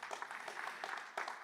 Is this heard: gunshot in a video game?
no